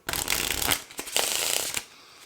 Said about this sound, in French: Donc on va le mélanger un petit coup.